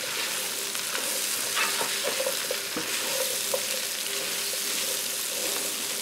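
Potatoes and sausage sizzle steadily in a pan as they are stirred, a dense, loud frying hiss with occasional scrapes from stirring.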